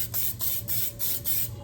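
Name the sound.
spraying a cake pan before baking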